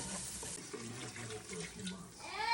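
Water poured from a container into a pot of Southern-style greens, a continuous splashing gurgle throughout with a small clink at the end.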